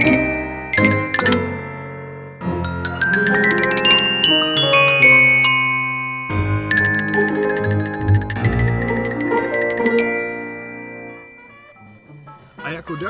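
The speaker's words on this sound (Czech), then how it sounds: "nebo rovnou chromatické zvonkohry." A Sonor chromatic glockenspiel rings out alone with bright metallic struck notes, played in quick runs and clustered strikes whose tones sustain and overlap, ending in a few final isolated hits.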